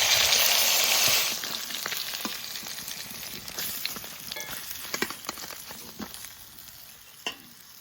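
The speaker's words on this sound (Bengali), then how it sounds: "পেটির মাছ ভাজবো এবার। তেলে দেওয়ার সঙ্গে সঙ্গে" Belly pieces of a large silver carp hit hot oil with a loud burst of hissing sizzle, which settles after a second into a steadier, softer frying crackle with occasional pops and clinks.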